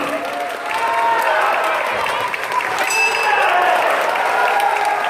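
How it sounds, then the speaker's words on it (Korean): Arena crowd applauding during a fight event, a steady, dense wash of clapping and crowd noise that fills the space for the whole stretch, with voices mixed in. "10초의 시간 동안 여러분의 박수를 함께 이 경기장을 채워주시면 고맙겠습니다."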